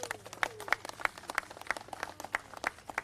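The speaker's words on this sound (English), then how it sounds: "Let's give him a round of applause there." Sparse, faint clapping from an audience at an outdoor Native American monument dedication, with individual claps landing at a fairly steady pace for a few seconds.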